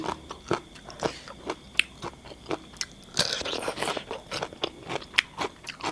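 Pounded giant octopus salad is chewed up close, with repeated crisp crunching bites and wet chewing at an irregular rhythm, loud against a quiet background.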